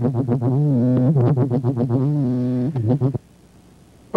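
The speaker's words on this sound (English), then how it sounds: "here's a song of one of these Drosophila species." Courtship song of a Hawaiian Drosophila fly species, heard as a run of rapid buzzing harmonic pulses in short bursts for about three seconds, then near silence.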